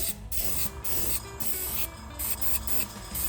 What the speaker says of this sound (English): now I'm gonna hit it with a clear gloss rattle can